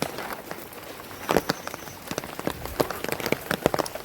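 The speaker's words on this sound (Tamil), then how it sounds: "இப்படி தான் மழை பெய்யுது" Rain patters steadily on a surface nearby in Jaffna during persistent rain, with scattered heavier drops and taps standing out irregularly throughout.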